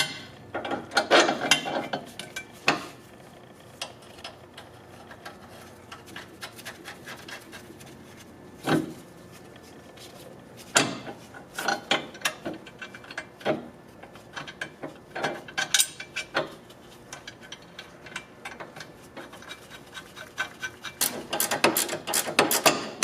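A ratchet wrench turning a 19 mm nut on a Honda Element/CR-V front lower control arm, giving repeated close clicking bursts of ratchet pawl in irregular runs with pauses between them, with no voices.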